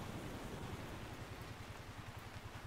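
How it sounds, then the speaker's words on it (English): Steady dense pattering of hail in the indie horror game The Lighthouse, a continuous loud wash of small hard impacts with no voices. "think it's hailing."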